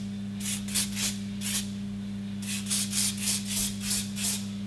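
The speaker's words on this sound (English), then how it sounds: "Might want to put a little bit of hairspray on if you like." Hairspray hisses onto styled curls in a string of short bursts, about a dozen quick sprays in two groups with brief pauses between, close and fairly quiet over a steady low hum, with no talking.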